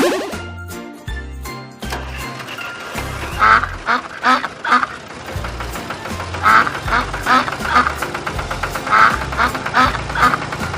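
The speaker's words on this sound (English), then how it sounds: "Duck." A duck quacks repeatedly in quick bursts over bouncy children's music with jingling bells, loud and continuous throughout.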